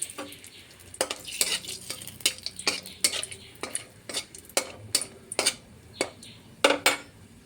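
Whole dried chilli, bay leaf, cardamom and cinnamon sizzle in hot oil while a utensil stirs the pan, giving repeated sharp metallic clinks and scrapes over a steady frying hiss.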